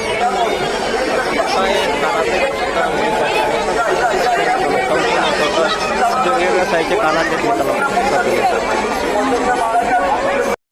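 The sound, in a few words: crowd chatter at a village fair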